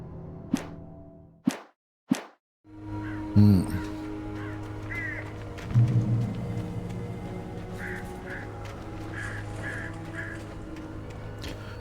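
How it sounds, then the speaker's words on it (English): A few sharp, isolated crow caws open a scene in the Alan Wake video game, then give way to a steady low drone with scattered thuds and soft, repeated calls. "Birds."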